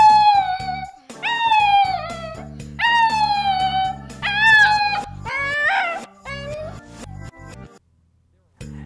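A dog howls in long, rising and wavering cries, loud and close, with several howls in a row under light talk before trailing into silence near the end.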